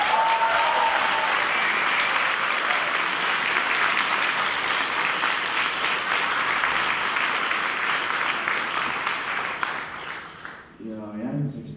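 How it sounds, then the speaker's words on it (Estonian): Sustained applause from an audience at a school Teachers' Day event, a dense, steady wash of clapping that carries on loud for around ten seconds before thinning out and fading near the end. "Võtaksin hetke, et teha üks suur aplaus"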